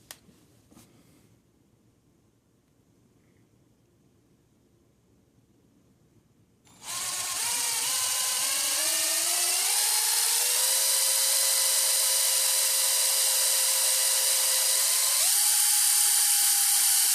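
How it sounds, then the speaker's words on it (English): A power drill bores through the plastic pin of a PS4 controller. After several seconds of quiet handling it starts abruptly as a loud, steady high-pitched whine that holds, then rises slightly in pitch near the end. "Okay, now I've been drilling for a while,"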